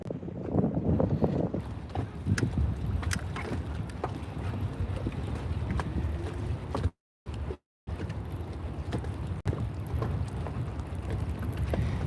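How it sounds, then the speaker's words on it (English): Wind gusts and buffets outdoors on the water while bass fishing, a steady broad rush with scattered knocks and taps, moderate and close, with two brief dropouts in the sound. "And that wind is kind of picking up out here too"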